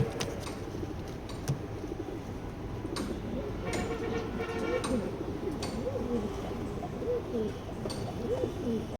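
Racing pigeons coo repeatedly nearby in soft, throaty, rolling calls, with occasional clicks and rustling in the background.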